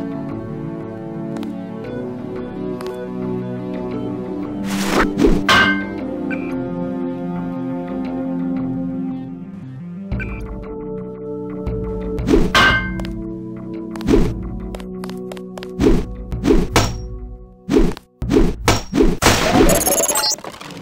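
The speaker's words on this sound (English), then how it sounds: "Now pick up a weapon and try to break open those crates." Crates being smashed open with a weapon in the video game Deus Ex, several separate thunks and cracks over ongoing game music, clustered around the middle and end.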